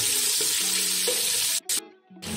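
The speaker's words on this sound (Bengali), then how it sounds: "এই পেঁয়াজটাও কিন্তু আমি 2-4 মিনিট একটু ভাজা করে নেবো।" Onion fries in a pan for a village-style khichuri, a steady broadband sizzle filling most of the stretch before cutting out abruptly in two brief gaps near the end, with a faint low tonal hum underneath.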